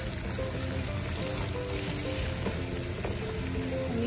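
Spices fry in a pan over lowered heat for a shrimp curry, a steady close sizzle with faint spoon scrapes and soft clinks running continuously without talk.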